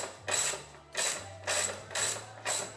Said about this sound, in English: Let me just unbolt it.